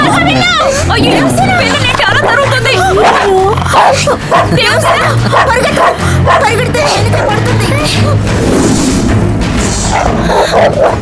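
A dog barks and yips repeatedly amid loud, busy commotion, with overlapping voices and crowd noise throughout.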